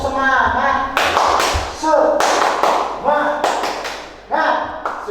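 A classroom of children does the Tepuk Semangat clapping chant with their teacher: sharp bursts of clapping and chanted voices come in a few rhythmic sections, loud and close, with speech between them.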